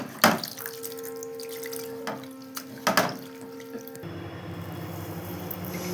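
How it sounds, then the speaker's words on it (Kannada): Cold water runs and splashes over paneer (chhena) being rinsed for rasgulla, with several sharp splashes and drips over a steady tap flow, close by and with no talking. "ಪನ್ನೀರಿಗೆ ಈ ಥರ ನೀರು ಹಾಕ್ಕೊಂಡು ವಾಶ್ ಮಾಡ್ಕೊಬೇಕು"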